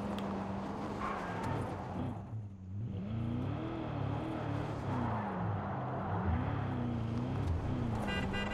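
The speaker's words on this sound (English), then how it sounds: "Hop into the car" A car being driven in the Far Cry 5 video game hums with an engine whose pitch rises and falls as it revs, dipping briefly before pulling on again, with no talk.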